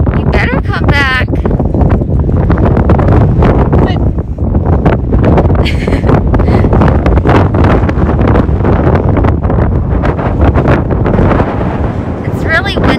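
Strong wind blowing outdoors batters the microphone in a loud, continuous roar that never lets up, with a voice now and then audible beneath it.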